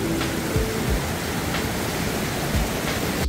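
Stream water from a mountain valley below Sinbulsan rushes steadily past a campground, a dense, even roar close by with no voices.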